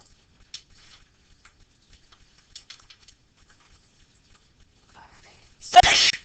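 A single sharp sneeze near the end, preceded by faint scattered ticks and small rustles in an otherwise quiet classroom.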